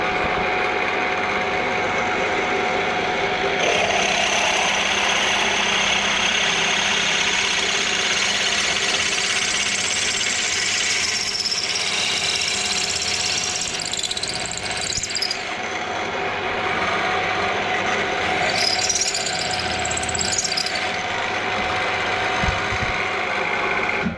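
A drill bit bores bolt holes in a hydraulic part for a Ferguson T20 tractor, a continuous machine whine and grinding drone holding steady for the whole stretch, with brief metallic squeals toward the end and no talking.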